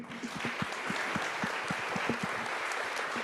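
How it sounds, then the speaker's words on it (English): Sustained applause from an audience at a New Mexico political event honoring elected officials, steady and fairly even throughout with a dense wash of clapping and a few low thumps. "Let's give them a round of applause"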